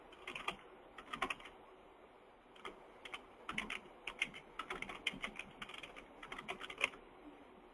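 Keys on a computer keyboard tapped in quick irregular bursts as a short note is entered into an online shopping cart form, light clicks close to the microphone with brief pauses between runs.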